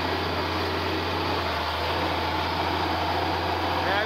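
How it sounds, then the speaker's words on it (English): An International Harvester tractor engine with a torque amplifier runs steadily and loudly up close, its low drone carrying a slight uneven lope as it picks up speed on a curve. "Now you can hear that little lope in the engine picking up speed."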